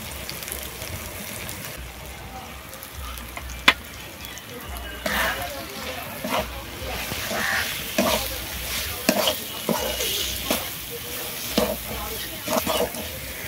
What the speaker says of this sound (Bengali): আদা রসুন পেঁয়াজ ভাজা হয়ে গেছে, এবারে দিয়ে দিচ্ছি হলুদ গুঁড়ো